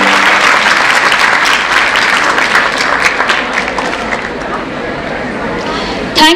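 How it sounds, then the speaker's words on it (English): Audience applause for a speaker at a Silver Jubilee awards event, loud, dense clapping from a large crowd, sustained steadily across the whole stretch and tapering slightly near the end. "Huge round of applause for her."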